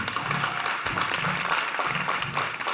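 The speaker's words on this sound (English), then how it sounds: "Give them all a big round of applause." Applause from an audience at an evening costume contest, a steady dense wash of clapping filling the whole short stretch with faint voices mixed in.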